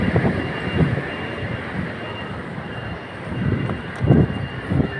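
An MRT metro train rumbles by with rhythmic clacking of wheels over rail joints, steady and moderately close, no voices.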